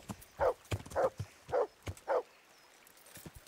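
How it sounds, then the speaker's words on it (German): A dog barks four times in a steady rhythm in the medieval video game Kingdom Come: Deliverance, each bark clear and mid-distance with quiet ambient noise between. "warte mal, der Hund bellt"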